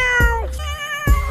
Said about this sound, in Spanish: pero los sonidos de un gato